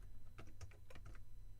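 Quick clicking keystrokes on a computer keyboard, a short irregular burst of taps over a low background hum, fairly close and faint.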